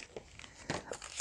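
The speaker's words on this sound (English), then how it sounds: "Oh, we've got more wrapping paper." Wrapping paper is crinkled in short, scattered bursts of rustling and crumpling during a crafts gift unboxing, fairly close and not loud, with no talking.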